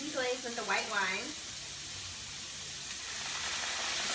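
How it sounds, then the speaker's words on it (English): White wine hits a very hot pan and gives a steady, airy sizzle and hiss of steam. It builds slightly and carries on after a short burst of talk at the start. "the pan's really hot, so I'll go ahead and deglaze with the white wine"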